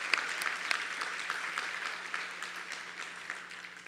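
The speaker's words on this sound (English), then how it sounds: "we have to give him a round of applause." Applause for Vinayak Ramlogan at an evening puja and birthday concert program, a fairly quiet, evenly spread clapping from the audience that tapers gently over four seconds.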